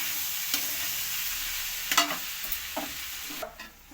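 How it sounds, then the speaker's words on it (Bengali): Chow mein is stirred in a hot pan with soy sauce, giving a steady sizzle with a few scraping clacks from the spatula. The cooking sounds are heard alone, close and quiet. "এর মধ্যে একটু সয়া সস দিয়ে এটাকে মিশিয়ে নিলাম।"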